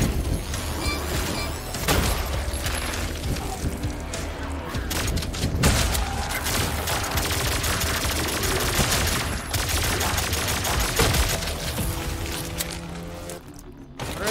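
Pistol fire in the fast-paced shooter Turbo Overkill rattles off in quick repeated shots over a dense wash of game combat noise and booms, loud and continuous for the whole stretch.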